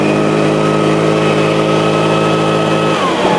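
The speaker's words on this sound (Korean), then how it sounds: "지금 트리거를 당기면 이렇게 바람이 나가는 방식이고요" A 4-stroke 76cc backpack leaf blower roars steadily as it pushes out air, loud and close, with its engine pitch dropping sharply as the throttle is released near the end.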